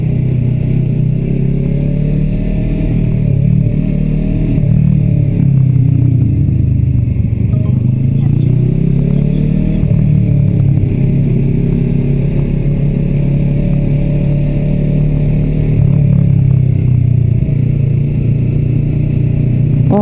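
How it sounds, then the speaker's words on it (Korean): Motorcycle engines rumble and rev steadily throughout, a loud, continuous mechanical drone like close street traffic, with faint clatter, on a busy motorcycle street in Buksung-ro, Daegu. "사람보다 오토바이가 더 많아요"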